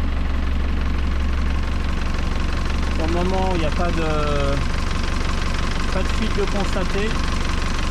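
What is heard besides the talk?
Yanmar 4JH marine diesel engine running after rebuild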